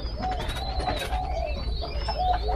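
Captive French spotted doves coo in soft, rounded, repeated notes close by, layered over chirps and background hum in a bird-breeding setting.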